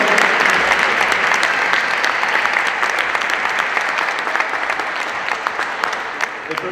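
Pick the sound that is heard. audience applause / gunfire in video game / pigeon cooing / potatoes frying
audience applause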